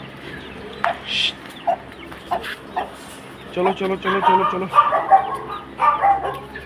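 Chickens cluck and squawk nearby in short bursts while a person calls out repeatedly, urging them along.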